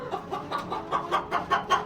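A hen clucks repeatedly in short, rhythmic bursts inside a coop, close by, with a steady low hum underneath and no talking.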